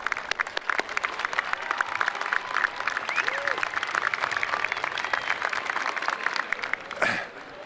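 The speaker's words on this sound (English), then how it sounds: "Let's give them all a warm round of applause." Sustained audience applause at a university commencement ceremony honoring University Medal finalists, a dense steady wash of many hands clapping that fills the hall before tapering off near the end.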